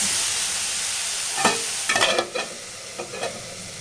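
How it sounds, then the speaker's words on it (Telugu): A spatula scrapes and turns ridge gourd curry in a pan over a soft background sizzle, giving several distinct stirring scrapes in quick succession. "మధ్య మధ్యలో మాడకుండా ఇలా తిప్పుతూ ఉండాలి"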